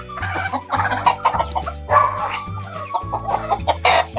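Several fowl in a terrace poultry setup give close, loud, repeated clucks and squawks, overlapping in uneven bursts with short pauses between.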